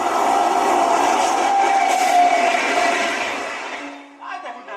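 A train-passing sound effect in a Tulu stage play rumbles and rattles loudly for several seconds, then fades out, followed by a brief tonal sound and a few scattered noises at the end.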